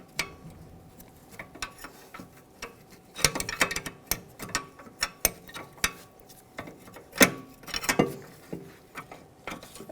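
Ratchet wrench working a tight rear brake bolt on a 2013-2018 Hyundai Santa Fe, giving irregular bursts of close metallic ratcheting clicks with short pauses between turns, no voices.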